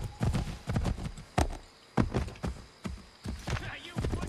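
Horse hooves clip-clop in a steady walking rhythm in the video game Assassin's Creed 3, each footfall a crisp, fairly close thud over faint background ambience.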